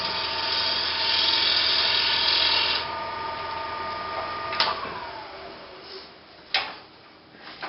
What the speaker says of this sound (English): a shear scrape or a shear cut